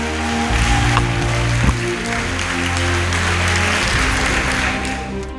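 A crowd at a political rally of a cadres and entrepreneurs movement applauds steadily, dense clapping holding for several seconds over a low hum, with no talk on top.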